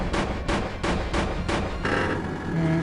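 Gun in Lands of Lore III firing repeatedly, five loud, evenly spaced blasts over a constant rumbling game background, followed by a steadier tonal hum.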